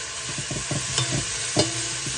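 Kale and chana dal stirred and roasted in a pan, with a spoon scraping and tapping in quick irregular strokes over a soft steady sizzle, close and clear with no voices.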